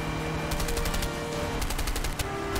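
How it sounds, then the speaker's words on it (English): Rapid bursts of automatic gunfire in the video game A Way Out, two rattling volleys of closely spaced shots with a single sharper shot just after, loud and up close. "Stop shooting me!"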